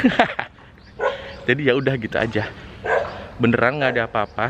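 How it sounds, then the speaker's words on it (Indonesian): A dog barks in short bursts in the background of a quiet Eid during lockdown in India, while a person talks over it at close range. "Cuma ada anjing gonggong."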